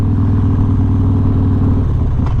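Close, loud Harley-Davidson Road Glide motorcycle engine in a steady low rumble with a rapid, even pulsing beat, running on its own without pause.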